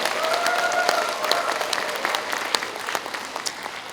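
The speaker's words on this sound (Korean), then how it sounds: "여러분 큰 환영의 박수를 부탁드리겠습니다" An audience at a book launch event in Wonju gives welcoming applause, a steady, even wash of many hands clapping throughout, moderately distant and without a break.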